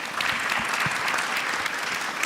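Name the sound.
audience applause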